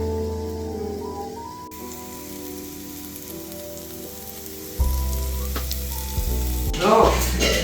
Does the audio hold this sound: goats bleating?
no